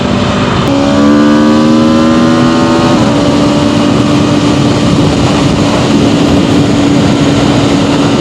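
A 2026 Aprilia RSV4 Factory sport bike engine under way: a loud, steady drone climbs through the revs, then shifts to a lower held tone after about three seconds, all under heavy wind rush.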